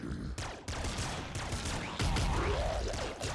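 Rapid chaotic blasts and explosive crackles from the Nuclear Throne video game, the thrombo explosions going off in a dense dense, continuous barrage with no pauses.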